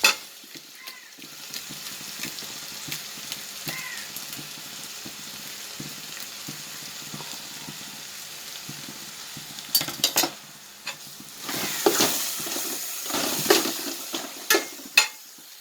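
Small onions (shallots) fry in hot oil in a pan for cumin samba mutton biryani, a soft continuous sizzle with occasional utensil clinks and stirring, growing louder and busier toward the end.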